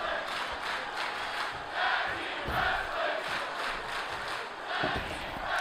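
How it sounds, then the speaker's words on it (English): A virtual arena crowd in the WWE 2K24 wrestling game chants and roars in rhythmic swells during a WCW Monday Nitro tag match, a dense, steady crowd bed heard without commentary. "you can hear the crowd shouting tag team wrestling"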